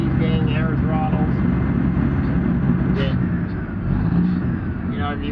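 A logging yarder engine controlled by an air throttle drones loudly and steadily, its pitch rising slightly as it revs, with a voice talking over the machinery throughout.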